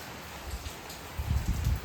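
Rain falls in a village during wind and rain, as a faint, even wash of drops with a slightly heavier patter toward the end.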